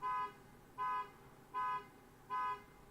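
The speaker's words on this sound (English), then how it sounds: "Beeping in from outside." A car horn beeps four times in an even rhythm, each honk about a quarter second long, sounding somewhat distant, from outdoors in a parking lot.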